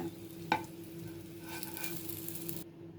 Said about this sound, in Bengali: আমি সুন্দর করে মসমসে করে ভেজে নিয়েছি